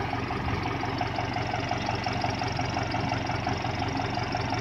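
A tractor engine driving a water pump for drip irrigation runs at a constant idle-like chug, loud and close, with a steady mechanical hum and no talking.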